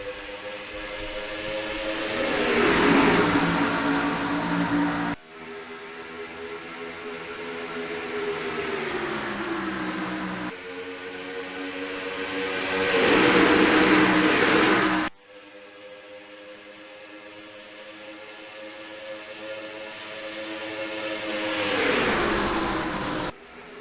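Race cars in a racing video game accelerating off the start at Michigan, several passes of loud engine whine rising in pitch, each swelling then cutting sharply, repeating across the clip.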